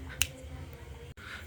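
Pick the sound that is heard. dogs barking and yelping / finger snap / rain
finger snap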